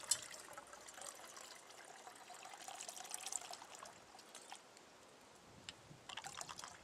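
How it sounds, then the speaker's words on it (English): Water pours and trickles steadily into a pot on a bush stove, a light splashing stream close by that briefly thins out and then picks up again. "Let's get some water in here."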